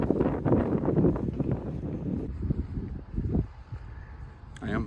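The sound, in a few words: strong wind outdoors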